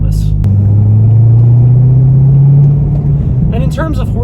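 A C6 Corvette Z06's LS7 V8 accelerates, a loud steady low engine drone building and holding through most of the stretch before easing, with a voice talking over the end.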